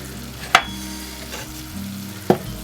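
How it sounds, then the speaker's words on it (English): Onions, garlic, stock and herbs stirred in a hot pan for tuna lasagna, with a low steady sizzle broken by two sharp metallic clinks of the spoon against the pan. "Let's throw in our stock, herbs, salt and pepper."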